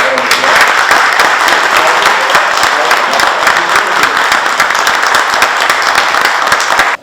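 Sustained applause from an audience welcoming an Olympic goalball champion, dense and steady clapping filling the room for about seven seconds before stopping abruptly.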